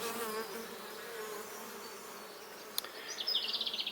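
Honey bees buzzing around an open hive box, a dense close swarm hum that stays steady throughout, with a few sharper passes of individual bees near the end and no talking.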